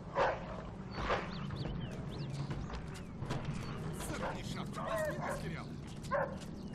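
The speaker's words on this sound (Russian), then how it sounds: "Черт, теперь еще и собака." A dog barks and yips repeatedly in Mafia 2, the short calls standing out over a steady bed of game ambience and running water.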